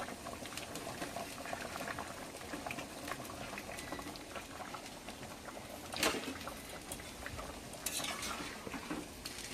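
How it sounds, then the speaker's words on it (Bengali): Fish curry bubbles in a pot at a steady rolling boil, with a soft continuous burble and a couple of brief clinks of a utensil against the pot. "মাছের ঝোলটা ফুটে উঠেছে, এবার মাছগুলো দিয়ে দেবো।"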